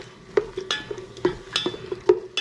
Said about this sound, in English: into that we're going to put our onion